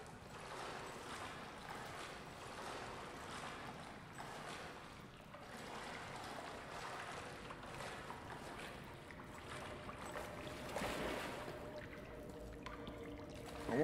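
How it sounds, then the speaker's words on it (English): Water sloshes and laps in Amnesia: The Bunker, a soft, continuous watery wash with faint swells, low in level and steady throughout, with no voices. "More fucking water."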